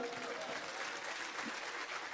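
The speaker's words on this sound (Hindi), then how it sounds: "जोरदार तालियों।" An audience at a motivational speech event claps steadily in continuous applause, a fairly even wash of hands with faint voices beneath.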